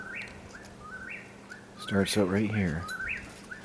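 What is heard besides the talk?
night bird calling in the evening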